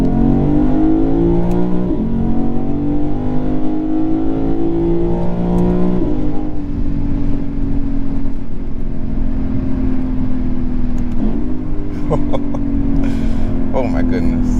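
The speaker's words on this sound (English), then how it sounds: "The sound, like the 5-liter V8, I can't tell you guys, I can't express it enough how much this character and everything that it does have" The 5-liter V8 of a 2022 Lexus IS500 drones loud and close, its pitch climbing and dropping several times as the revs rise and fall, with a person talking over the engine throughout.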